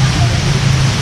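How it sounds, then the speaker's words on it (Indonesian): Heavy rain pours steadily outdoors, a loud dense hiss and low roar that fills the whole moment without pause. "Hujan lebat sekali."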